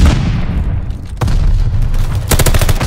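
Grenade blasts in a team-based shooter game, with a burst of booming detonation and rapid crackling impacts, loud and close; the second burst near the end is denser, with sharp repeated pops.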